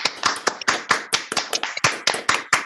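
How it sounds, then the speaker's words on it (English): Applause over a Zoom call, a few people clapping quickly and unevenly, close and clipped, with no voices. "You got proper Zoom applause."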